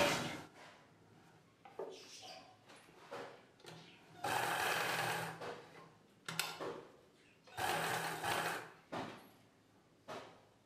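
A sewing machine stitching blouse fabric runs in several short bursts of fast, steady whirring, separated by quiet pauses and small handling clicks, close and fairly soft.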